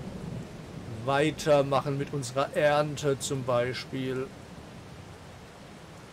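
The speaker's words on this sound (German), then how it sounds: "wenn dieser Regen endlich mal aufhören würde" A steady wash of rain hisses in the video game Farming Simulator 22 throughout, with someone talking over it in German for most of the clip and no distinct thunder standing out.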